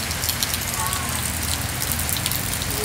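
Continuous rainfall outside a house in the Philippines makes a dense, unbroken patter and hiss on surrounding surfaces, steady and fairly close, with no speech over it.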